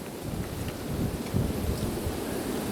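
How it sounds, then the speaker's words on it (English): Wind gusts roar steadily through a homestead forest, a dense, continuous rushing that is loud and close, with no talking. "you can hear the wind coming through the forest off in the distance and then rips through"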